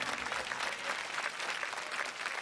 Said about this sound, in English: I need for you all to give all of these people a round of applause